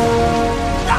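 Steady rain falls in a wet jungle setting, a dense, continuous patter of drops on surfaces, close and loud, with no voices.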